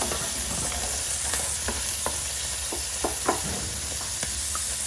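Pork and chorizo fry in a pan with salt, a dense steady sizzle carrying sharp intermittent scrapes and taps from stirring.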